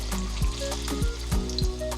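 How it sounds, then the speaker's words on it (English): Plantain slices frying in a pan of oil, a soft steady sizzle with faint crackles and a few light clinks or scrapes, low in level and close, with no voices. "look at me frying plantain in the middle of the afternoon"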